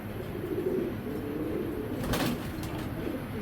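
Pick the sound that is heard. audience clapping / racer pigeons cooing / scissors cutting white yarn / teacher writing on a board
racer pigeons cooing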